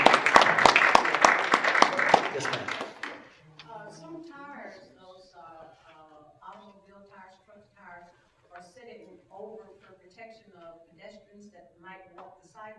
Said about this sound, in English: can we just give our mayor and our staff, our committee a round of applause for everything that they do?